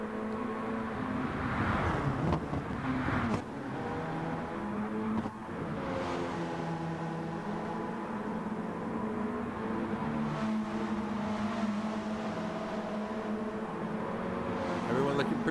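Race cars in a racing video game sweep through a chicane into the final turn, engine drone steady with a couple of brief louder surges, running under continuous commentary.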